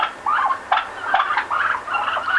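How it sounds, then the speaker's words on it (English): Turkeys gobble in bursts of rapid, warbling calls, close and fairly loud, overlapping one another with short gaps between. "this one. Turkeys."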